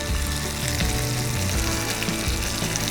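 Salmon fillets sizzle and fry in a hot pan outdoors, a dense, crackling hiss heard up close and steady throughout with no talking.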